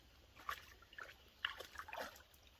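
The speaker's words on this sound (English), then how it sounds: "First thing the dogs got to do is get in the water." Dogs wade and splash in a creek on a woodland walk in Tennessee, with faint, scattered splashes and trickles a short distance away, quiet and irregular with no talk.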